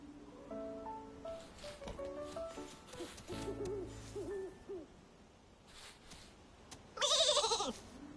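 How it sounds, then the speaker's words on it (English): A short, bright sheep bleat from a video game rings out near the end, during a sheep-grooming task, following a stretch of tonal, game-like music and chimes. "Nikki, how about we give the sheep a grooming?"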